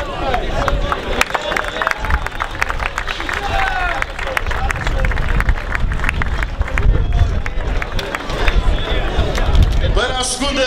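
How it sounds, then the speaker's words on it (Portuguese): A crowd applauds rally driver Daniel Ferreira at the Almada Extreme Sprint 2023 prize ceremony, with sustained outdoor clapping mixed with crowd babble and chatter throughout. "Um aplauso então para Daniel Ferreira."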